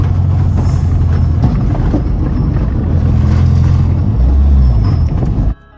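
A Honda Integra Type R runs in fourth gear over a rough road, its engine a loud, constant low drone mixed with heavy road rumble and cabin noise throughout, cutting off abruptly near the end.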